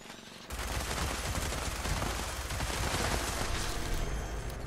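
A minigun firing in Fallout 76, a bloodied explosive build: after a brief pause, a continuous, dense, loud stream of rapid gunfire with explosive impacts that runs unbroken to the end.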